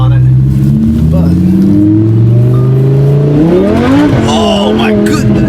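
A Lamborghini Huracan in Corsa mode revs loudly and accelerates, its engine note climbing steadily in pitch with a shift near the end, while people talk over it inside the car.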